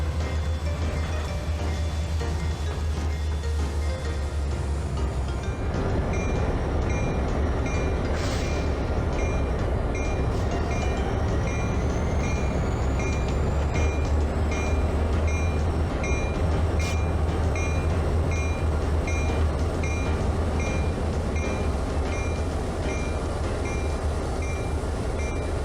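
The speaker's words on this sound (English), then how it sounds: "Andy, Andrew, Gary, and Mackay gave rides in cabs, cabooses, and passenger cars to the visiting people" Train cars rolling along rails as they carry visitors on rides at a Halloween railway event in Barstow, a continuous low rumble and grinding roll with faint squeals and occasional clicks, steady throughout with no talking.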